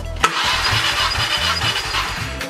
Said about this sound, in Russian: Производим замер компрессии на холодном двигателе.